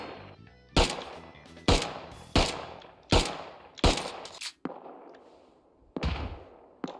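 Gunfire in an online survival game at an airfield raid sounds as about eight sharp, loud single shots spaced roughly a second apart, each with a decaying echoing tail.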